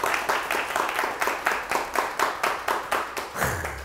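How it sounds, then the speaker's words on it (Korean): Steady, rhythmic clapping fills a Korean televised lecture hall on dreams and success, about four even beats per second, loud and close, ending as a low voice begins. "저는 여러분을 위해서 제가 박수를 한번 드리겠습니다."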